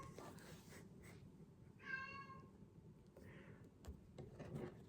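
A single short cat meow sounds at moderate distance against a quiet room background with faint rustling, followed by a softer murmur.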